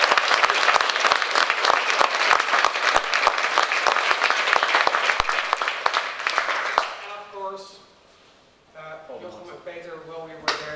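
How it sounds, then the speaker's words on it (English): An audience breaks into sustained, dense applause at a conference wrap-up, loud and close, before it fades and a voice speaks over the quiet room near the end. "I want to give a round of applause to our design team, Evelyn, Harm, and Sebastian."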